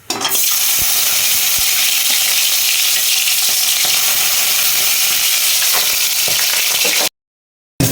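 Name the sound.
eggplant and chillies frying in a pan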